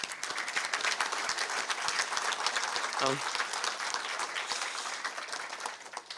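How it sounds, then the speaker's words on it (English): A crowd gives steady, full applause at an alumni hall of fame ceremony, continuous clapping for several seconds with a brief voice cutting through midway, fading slightly at the end. "So for her, round of applause."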